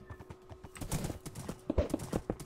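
Hooves clip-clop quickly in a rhythmic patter as a horse gallops in a UHC (Ultra Hardcore) Minecraft match, close and fairly faint, with a low background hum throughout.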